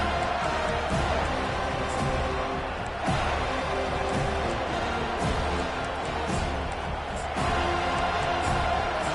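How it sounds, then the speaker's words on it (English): Steady roar of a large stadium crowd at a college football game in a video game, loud and continuous, with swells of cheering rising and falling throughout. "This crowd bringing the energy and noise early."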